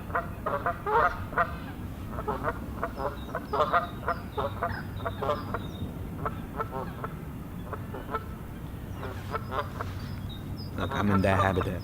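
Birds calling loudly in their habitat, goose-like honks and squawks repeating in irregular bursts, close and prominent, with a person talking intermittently underneath.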